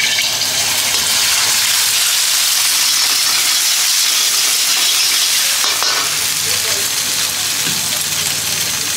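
Eggs scrambled in hot oil in a pan, a loud continuous sizzle and frying hiss with stirring scrapes, steady throughout, a voice faintly present beneath.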